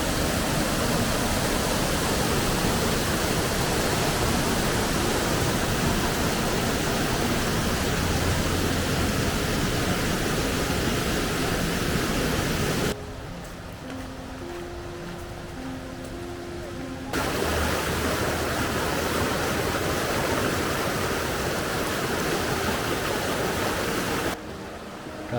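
Rushing water in Mostnice gorge and at Savica waterfall near Bohinj: a loud, dense, unbroken roar of flowing water, twice cut abruptly to a quieter stretch where fainter tones come through.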